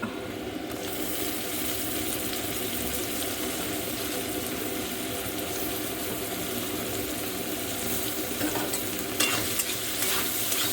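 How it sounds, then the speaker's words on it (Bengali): Mixed vegetables, beans and tomato stir-fry in a pan for chow mein, with a steady, dense sizzle and continuous stirring scrapes that stay even throughout. "এটাকে ভালো করে কষিয়ে নেবো। ভালো করে কষাতে হবে"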